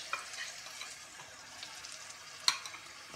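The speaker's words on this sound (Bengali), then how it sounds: "এরপরে আমি একটা স্প্যাচুলা দিয়ে এটাকে ভালো করে নেড়ে নেব" A spatula stirs chhena with ghee and milk in a pan, making a faint, steady soft sizzle with light scraping strokes and one sharp clack partway through.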